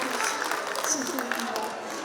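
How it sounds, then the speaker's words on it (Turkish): Applause for two women guests at a cooking gathering, soft and fairly distant, a brief even patter with voices faintly audible beneath. "İki Adanalı hanımefendiyi cani gönülden alkışlıyoruz"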